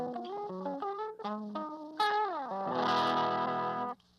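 An electric guitar runs through an effects pedal set for heavy tape hiss and distortion, playing a descending melodic line, then a sustained chord with a hissy, wobbly, saturated tone that cuts off abruptly.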